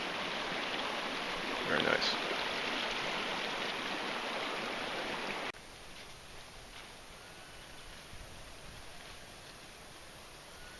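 A mountain stream in the Cordillera Huayhuash rushes below a glacier, a steady broadband wash that is loud for the first half and then drops to a softer, distant flow, with someone briefly speaking.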